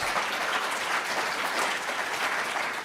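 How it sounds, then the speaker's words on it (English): Steady, fairly soft applause from the crowd at a socialism conference, many hands clapping in an even wash heard at some distance, continuing throughout without a pause. "and they decided to applaud."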